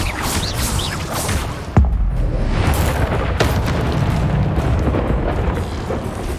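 Fire spell Incendio cast repeatedly in Hogwarts Legacy, with booming blasts and crackling bursts over a steady roaring fiery rumble, including one sharp loud impact partway through.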